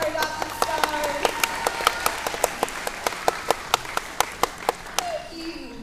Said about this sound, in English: So how about one more big round of applause for all of our adopted stars?